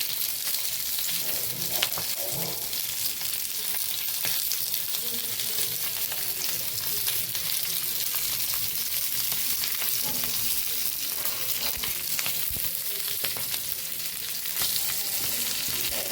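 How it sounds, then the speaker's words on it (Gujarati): Stuffed green chillies fry in oil in an iron pan, giving a steady, even sizzle that lasts throughout, with faint occasional turning sounds and no speech. "આવી રીતે ફેરવતા બધી સાઈડથી મરચાંને મસ્ત એવા પકાવી લેવાના છે"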